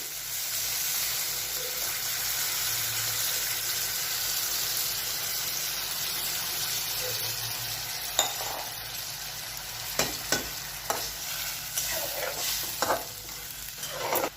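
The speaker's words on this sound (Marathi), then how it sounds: "आता टाकणार आहे 1 ग्लास कोमट पाणी।" Warm water poured into a spiced potato curry sizzles and hisses steadily on the stove, a continuous loud wash of steam broken later by several sharp clinks and scrapes of stirring.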